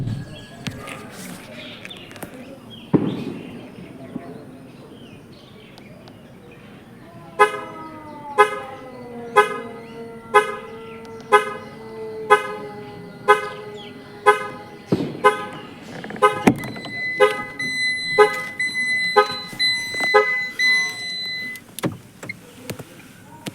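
A car locked with its key left inside sounds its horn in a long series of evenly spaced, sharp beeps, about a dozen in all, with fainter clicks and ambient noise between them.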